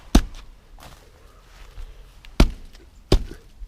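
A hollow, dead redwood trunk kicked three times outdoors near a house, each kick a loud, sharp thud with a short woody resonance, separated by quieter rustling and shuffling between hits.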